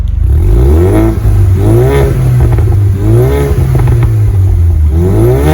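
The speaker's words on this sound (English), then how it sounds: "it has a new rear exhaust, which sounds like that." A Ford Mustang 2.3L EcoBoost with an aftermarket rear exhaust revs loud and close, climbing and falling in repeated surges with a crackly, raspy edge. No one talks.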